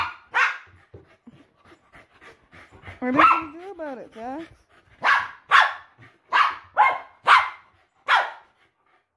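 A dog that hates fidget spinners barks repeatedly, a string of loud close barks mixed with whimpers and a whining howl, while a person talks briefly between them.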